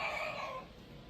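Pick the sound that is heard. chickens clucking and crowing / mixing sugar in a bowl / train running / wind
chickens clucking and crowing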